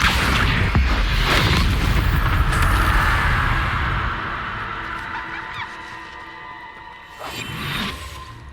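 Spell-casting effects in the Hogwarts Legacy video game: a loud booming burst with whooshes at the start, a long fading rumble, then another swooshing burst near the end.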